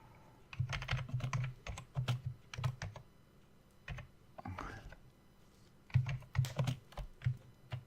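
Bursts of rapid typing on a computer keyboard placed close to a microphone, clustered keystroke clicks separated by short pauses, close and fairly quiet.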